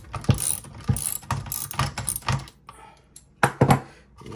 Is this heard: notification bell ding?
no